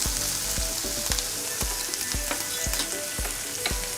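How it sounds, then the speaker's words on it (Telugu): Curry leaves frying in hot oil in a pan for a prawn, egg and okra curry, a steady dense sizzle with regular stirring scrapes, close and loud, with no talking. "ఇప్పుడు కొంచెం కరివేపాకు వేసుకుంటున్నాను. ఇప్పుడు బాగా ఫ్రై చేసుకుందామండి."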